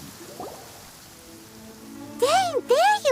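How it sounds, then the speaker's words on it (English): Rain falls in a video game with a constant soft hiss of drops throughout; near the end, short tonal voice-like game sounds rise over it. "I'm used to the rain, but you should probably use an umbrella."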